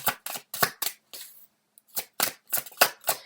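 Tarot cards being shuffled by hand: a series of crisp, papery riffling bursts in an uneven rhythm, close and moderately loud, with a brief quiet gap midway and no talking.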